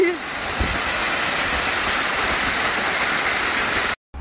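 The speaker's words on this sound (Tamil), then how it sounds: "அங்கே தண்ணி ரொம்ப ஃபோர்ஸாக இருந்ததுனால கிட்டே போகக்கூடாது அப்படின்னு சொல்லிட்டாங்க" Aagaya Gangai waterfall in the Kolli Hills thunders with a loud, dense, constant rush of forceful water close by, cut off abruptly near the end, with a faint voice at the start.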